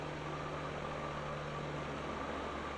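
Simulated aircraft engine at full throttle in Microsoft Flight Simulator: a steady, fairly quiet droning hum with a constant low tone, unchanging throughout and with no voices.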